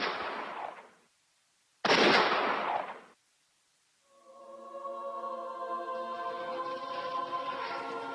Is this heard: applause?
no